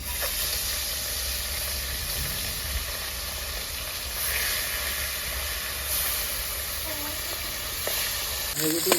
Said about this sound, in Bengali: সর্ষে তেল তেল গরম হয়ে গেছে মাছটা দিয়ে দেবো